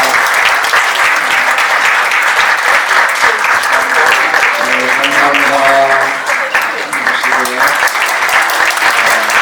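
Sustained audience applause at a Korean Loving Hands mentor-mentee night, a steady dense wash of clapping filling the whole stretch, with faint voices or music tones partly beneath it toward the middle.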